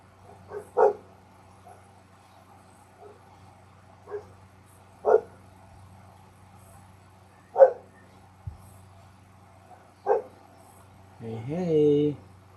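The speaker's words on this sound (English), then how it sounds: "How is it that the dogs were not barking and all of a sudden I go live and now they're barking?" Several dogs bark in short separate bursts at a moderate distance, roughly every couple of seconds, in an indoor home setting with faint background hum, ending with a longer whining yelp.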